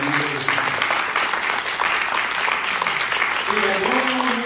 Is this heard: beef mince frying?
no